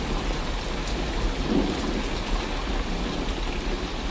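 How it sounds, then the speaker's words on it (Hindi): Heavy rain with hail falls in a thunderstorm over farm fields, a dense, loud, steady roar of drops and pellets filling the whole stretch, with no voices. "कुछ ही देर में बारिश के साथ साथ ओले भी गिरने लगते हैं।"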